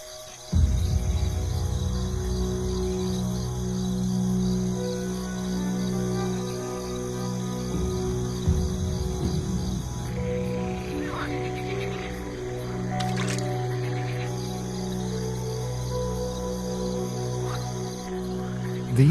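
A pond in Iberian woodland full of calling Iberian green frogs, a dense, continuous chorus of croaks and trills with insects and other wild calls layered over it, sustained at moderate loudness.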